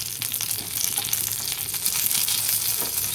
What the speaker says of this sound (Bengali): এই তেলেতে আমি ফোড়ন হিসেবে দুটো তেজপাতা দিলাম, দুটো শুকনো লঙ্কা দিলাম।